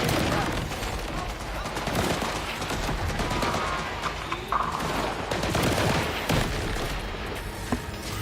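Rapid gunfire in the Borderlands 4 video game, dense bursts of shots and booms crackling almost nonstop at close range, with a voice faintly mixed in.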